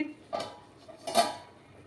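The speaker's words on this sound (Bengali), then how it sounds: "এবার আমি ঢাকা দিয়ে দিচ্ছি" Two soft metallic clinks as a lid is set on a cooking pot of papaya and potato curry, quiet and close with a short pause between them.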